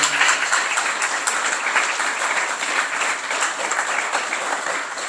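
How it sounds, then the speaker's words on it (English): Audience at a community centre gathering gives a sustained round of applause, a thick, steady crackle of many hands clapping at even loudness from start to finish, with no talk over it. "Please give him a massive, massive round of applause as well again."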